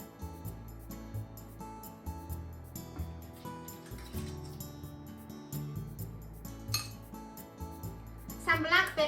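Dishes and utensils clink while braised napa cabbage and clams are served into a bowl, with scattered close taps and scrapes of crockery over quiet kitchen background, building to a brighter clatter at the end.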